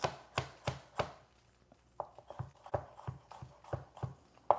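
A knife chops food on a board for a lamb chop dish, with sharp, close, evenly spaced thuds: a few strokes, a brief pause, then a quicker run of chops.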